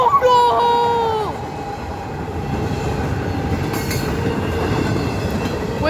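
A CN intermodal freight train rolls past close by, steady wheel rumble and clatter with a high metallic squeal early on, fading slightly as it continues.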